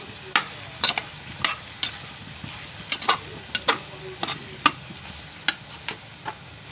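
Whole spices and masala for matar pulao frying in a pan, with steady soft sizzle under frequent sharp scraping and stirring clicks scattered through, close and moderately quiet.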